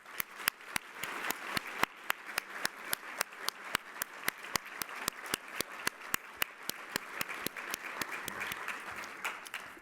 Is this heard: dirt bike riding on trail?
no